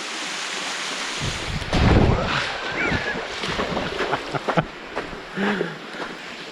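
Small rolling waterfall on Paint Creek, Ohio, a steady broadband rush of falling water running throughout, with a louder churning surge near two seconds and brief splashes and knocks later on.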